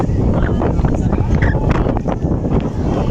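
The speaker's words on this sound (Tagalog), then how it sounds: "Mahangin eh." Wind gusting across an open-air glass-walk viewpoint in Batangas, a constant low buffeting rumble on the microphone beneath a person talking throughout.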